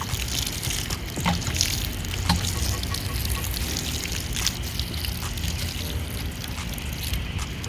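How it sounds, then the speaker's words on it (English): Water splashing and trickling steadily onto potted flowers in a garden, a continuous close, fairly loud wash of pouring water with no talk. "Water them down some more."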